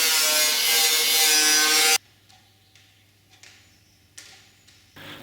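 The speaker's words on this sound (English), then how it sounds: "cut the panel out to the line made by the holes and not to the solid line above it" Steel body panel on a turbocharged four-wheel-drive Austin Mini being cut out along a line of drilled holes: a loud, steady, harmonic power-tool whine for about two seconds, then it stops, leaving faint scattered clicks and light taps.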